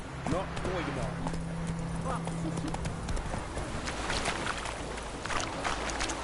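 A horse gallops in The Witcher 3, its rhythmic clip-clop hoofbeats running steadily throughout, with an occasional whinny and game voices talking over the ride.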